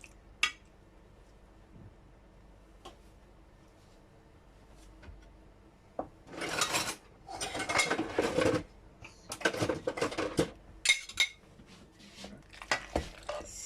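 White sauce pasta is served up with metal utensils scraping and clinking against dishes. After a quiet stretch with a few faint taps, the clattering comes in several close, loud bursts.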